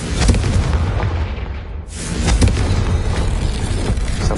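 A Confringo blasting spell erupts in Hogwarts Legacy, loud booming explosions rumbling continuously with a brief dip near the middle before another heavy blast and sustained crackling roar.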